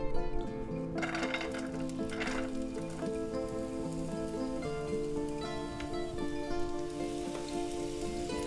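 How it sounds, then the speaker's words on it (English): Onions drop into warm oil in a pan over a medium burner, bringing a steady close sizzle with light clinks, heard over a background of sustained musical tones and no talk. "Now we're going to add our onions."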